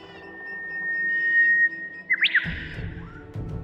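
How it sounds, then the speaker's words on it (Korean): A Korean bush warbler sings a long, sustained whistled note, then a quick rising and falling flourish, clear and fairly close. "휘파람 새였다."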